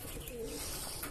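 A blue bar pigeon hen coos once, a faint, low, brief murmur close by in a quiet space.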